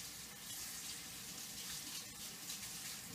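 A tap runs water to rinse lye off skin during cold process soap making, a steady, soft hiss of flowing water close by and fairly quiet, with no talking.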